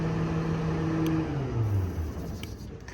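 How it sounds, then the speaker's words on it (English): A 2016 Hino 338 diesel truck engine cranks and turns over, its low rumble settling into a steady idle with a constant background hum. "Turn the truck back on."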